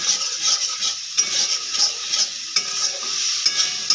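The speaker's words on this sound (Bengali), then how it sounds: "আমি এটা দু মিনিট ফ্রাই করে নেব এই দেখুন আমার চিংড়ি মাছ থেকে তেলটা ছেড়ে দিয়েছে" Prawns fry in oil in a pan with a bright, constant sizzle, broken by repeated scraping and clinking as a utensil stirs them. The sound is close, with no talking.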